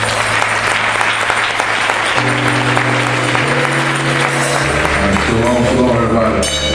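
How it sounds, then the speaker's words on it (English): Conference audience applauding a speaker's introduction, dense continuous clapping over sustained organ-like music chords that shift through the clip, loud and close. "let's give a round of applause for Brother Ron Dalton"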